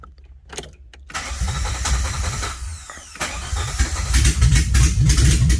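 A 1981 DeLorean cranks on its starter after brief clicks and knocks, then catches and runs, its engine note rising to a steady, loud idle that rumbles on close by to the end.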